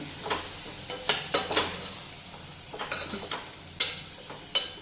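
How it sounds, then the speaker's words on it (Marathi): Val beans and chopped ridge gourd sauté in a pan, a quiet low sizzle punctuated by irregular sharp scrapes and clinks of a spatula against the pan, with no talking. "वाळ परतून घेते चांगले आणि त्याच्यामध्ये हा दोडका म्हणजे शिराळं कापून घेतलेलं आहे ते टाकलं"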